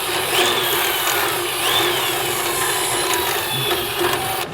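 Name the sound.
drill bit run through corroded trailer equalizer bushing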